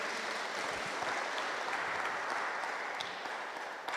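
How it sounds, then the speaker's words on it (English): Mourners clapping at a memorial service, a soft, even patter of applause from a gathered congregation, continuous and fairly distant without any talk over it. "Just clap for him."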